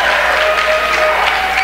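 A crowd at a high school wrestling match claps in a steady, continuous round of applause, fairly loud and sustained throughout.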